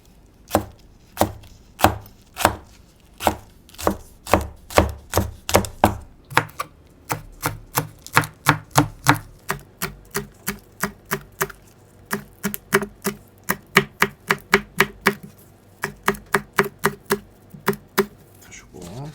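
Green onion being chopped with a knife on a cutting board, crisp rhythmic knocks close up, slower at first and then quicker, dozens of strikes in steady runs.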